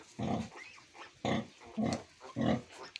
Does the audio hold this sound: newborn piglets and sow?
yes